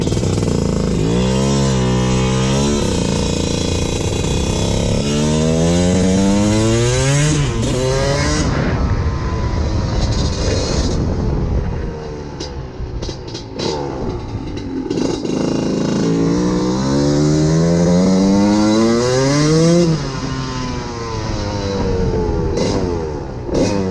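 A GasGas motorcycle engine on a ride after ignition-timing work, running slightly rich, revs rise and fall repeatedly through the gears, loud and close, with wind rush and brief throttle-off dips between pulls.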